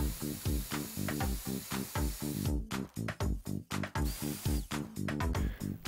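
A milling machine cuts a steel driving wheel for a live steam locomotive. The cutter makes a loud, rhythmic chatter of rapid repeating cuts that runs steadily throughout, with brief dips in intensity partway through.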